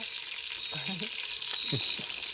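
Garlic and onion sautéing for chicken adobo, a steady close sizzle with stirring scrapes, while faint voices murmur briefly underneath.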